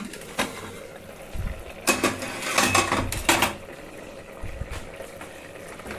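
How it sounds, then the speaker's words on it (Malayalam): A pressure cooker lid is opened over boiled egg and potato curry: a cluster of metallic clanks and rattles in the middle, with soft bubbling and faint kitchen noise before and after. "കുക്കറിൻ്റെ അടപ്പ് നമുക്കൊന്ന് തുറന്നു നോക്കാം"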